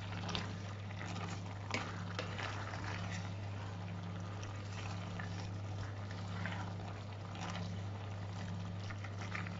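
A pot of water bubbles on the stove with courgette tagliatelle in it, a faint, steady boiling patter over a constant low hum, with no talking.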